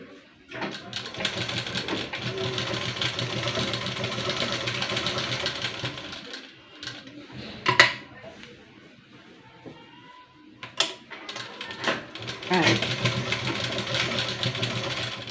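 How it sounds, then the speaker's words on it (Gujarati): A sewing machine stitches the edge of a collared kurti in steady whirring runs, stopping for pauses with small clicks and handling knocks in between before starting up again. "આ રીતે આપણે ધારની સિલાઈ લગાવી લઈએ."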